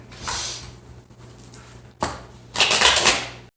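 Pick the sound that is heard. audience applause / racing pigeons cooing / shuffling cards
shuffling cards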